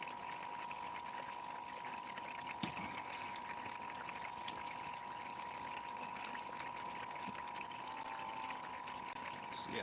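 Steady, continuous rush of water flowing through a homemade DDD gold cleanup sluice with riffles and expanded metal, a constant wash with a faint mechanical hum, no talk.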